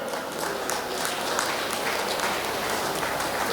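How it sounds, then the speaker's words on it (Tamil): An audience at a Tamil spiritual discourse on Vallalar gives a steady round of applause, a dense wash of many hands clapping at an even, sustained loudness for the whole stretch. "அவருக்கும் ஒரு கைத்தட்டல் போட்டு."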